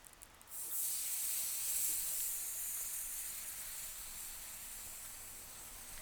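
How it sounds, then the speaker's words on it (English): Beef broth is poured slowly into a hot roux in a cast iron pan, giving a sudden, steady hiss and sizzle that starts abruptly and keeps going without a break at moderate loudness. "we're going to add in 2 cups of beef broth, and we're going to add it in slowly, mixing the whole entire time"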